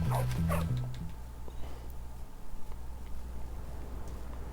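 A dog barks and yips in Bully Scholarship Edition, a short burst of a few close barks and whimpers at the start, then fading into game ambience and low background hum.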